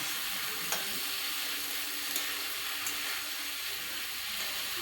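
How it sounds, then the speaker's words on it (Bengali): Raw banana frying in a pan gives a soft, even sizzle with a few faint clicks, fairly quiet and steady throughout. "এদিকে আমার ভাজা হয়ে গেছে।"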